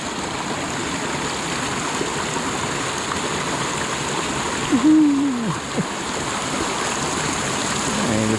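A mountain stream on the Buffalo Mountain Loop in the Eagles Nest Wilderness rushes and splashes continuously, close by and fairly loud, with a brief tonal squeak partway through.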